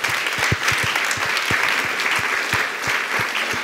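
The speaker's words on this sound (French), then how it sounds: "ça mérite qu'on les applaudisse" An audience claps at an HR awards ceremony: a steady patter of many hands with distinct sharp claps standing out, moderately loud and sustained throughout, with no speech over it.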